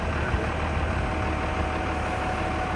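A vehicle's engine hitched to a fishing boat towing it at sea off Oman, running in a steady, unbroken low drone and hum that stays loud and even from start to finish, with no voices.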